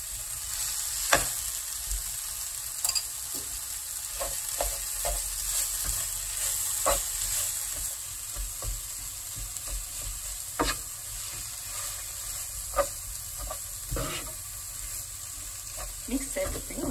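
A spoon stirs a vegetable and mashed potato filling for veggie rolls in a pan on the stove, with a steady soft sizzle and scraping strokes that come up close at intervals.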